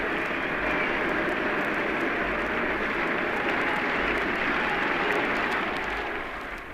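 A rugby stadium crowd roars in a dense, sustained wash of cheering and applause as the South African tour ends, loud and continuous before easing slightly at the close.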